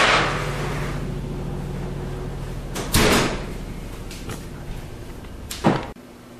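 Chocolate chip cookies on a tray slide into a home oven, with a quiet hum in the background and the oven door clattering shut twice, near and loud, with no talking.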